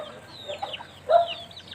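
Backyard chickens in a rural province yard give soft, scattered clucks, close by and moderately loud, with one brief louder call partway through.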